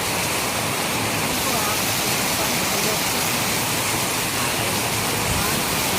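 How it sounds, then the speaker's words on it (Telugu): Heavy rain pouring down outdoors, a dense, steady wash of noise that stays constant and loud throughout with no pauses. "వర్షం బాగా జోరు పడతాను"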